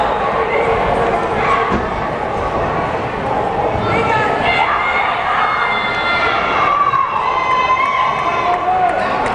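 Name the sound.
basketball crowd cheering at girls' game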